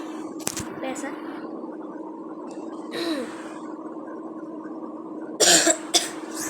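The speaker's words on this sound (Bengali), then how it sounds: "মাঝে মাঝে একটু কাশি আসতে পারে" A person coughs during a Roblox airport city tycoon game session: one short cough early, a muffled throat sound around the middle, and a louder, harsher double cough near the end, all close to the mic over a steady low hum.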